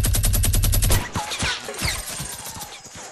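A minigun fires in the video game Fortnite, a fast, loud stream of rapid rounds for about a second, followed by scattered shots and impacts further off.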